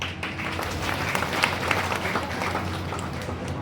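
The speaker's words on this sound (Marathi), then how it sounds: "जोरात टाळी वाजवून" Audience applause during a devotional kirtan gathering, a dense continuous burst of clapping from a crowd filling the whole moment, with some voices mixed in.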